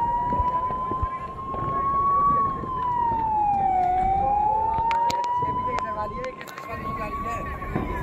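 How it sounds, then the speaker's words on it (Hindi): Fire brigade siren wailing at a night bus fire near a power house parking lot, a loud, steady, slowly rising and falling tone over rumbling background noise, with people talking throughout. "फायर ब्रिगेड वाले आ गए।"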